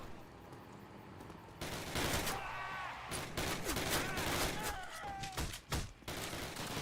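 A Thompson submachine gun fires in a video game battle, with rapid bursts of automatic fire and sharp cracks layered over dense combat noise. Voices break in at moments.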